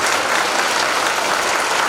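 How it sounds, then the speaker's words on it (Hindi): Children at Gyan Ganga Public School clap loudly during a Republic Day event, a dense, continuous burst of applause filling the whole moment. "आप इनके लिए जोरदार तालियां बजाएं"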